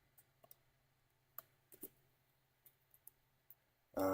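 Computer mouse clicking during work in Storyline software, a sparse series of soft, close clicks at irregular intervals over a quiet room hum, ending in a sudden loud burst.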